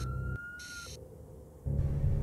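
Police and fire brigade sirens wailing in city streets, a short stretch of shifting tones heard fairly clearly over steady background noise.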